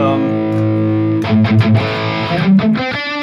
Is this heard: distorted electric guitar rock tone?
yes